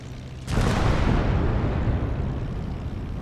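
A heavy 17 cm K18 Mörser artillery gun fires in the video game Gates of Hell, one sharp loud blast followed by a long, deep rumbling decay.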